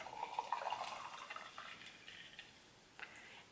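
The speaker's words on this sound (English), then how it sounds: "So I'm just gonna plop my tea right into the infuser and pour in our hot water." Hot water poured from a kettle into a tea infuser holding loose blueberry tea, a soft close watery splash strongest in the first second and a half, then thinning to light trickling and a few drips.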